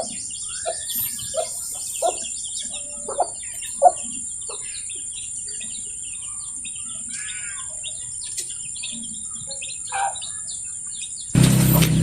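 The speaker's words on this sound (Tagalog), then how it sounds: "Malalaki na yung mga sisiw." Newly hatched native chicken chicks give short, scattered high peeps and chirps at close range, with a few louder calls standing out over a quiet background.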